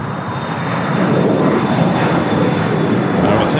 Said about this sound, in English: the Lufthansa Queen making that final turn